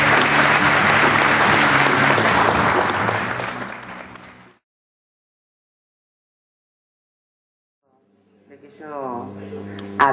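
An audience at a city anniversary launch event in Campana applauds loudly for about four seconds before the clapping cuts off into silence, followed by a speaking voice at the end.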